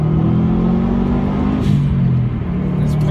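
A Subaru Impreza WRX SL engine hums at a steady, loud, close idle with a low droning rumble, no voices over it.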